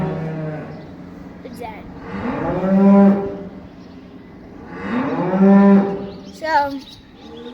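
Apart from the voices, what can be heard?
cattle mooing in a pen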